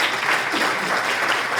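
Loud, dense applause from an audience at an investor and fundraising event in Ecuador, continuous clapping from many hands filling the whole moment with no talk.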